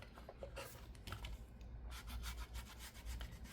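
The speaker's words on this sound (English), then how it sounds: "I'm just going to rub some along here as well to accentuate the spine" Soft rubbing strokes along the spine of a handmade junk journal made from a T-shirt, repeated brushy scrapes in an uneven rhythm, close and quiet, with no talk.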